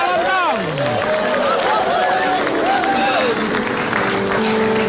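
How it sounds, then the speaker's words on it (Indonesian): Studio audience on the Indonesian comedy talk show Indonesia Lawak Klub breaks into applause and crowd noise, steady and loud throughout. Voices and tonal sounds rise and fall over the clapping. "Tepuk tangan untuk calon dong."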